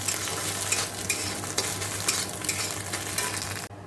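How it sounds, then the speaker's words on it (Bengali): Shredded egg frying in a hot wok, a close, continuous sizzle with scraping stirring strokes throughout, with no voices. "তো এটাতে পরোটা ভাজবো আমি ডিমের ঝুড়ি ভাজাটা দিকে ভেজে নিই"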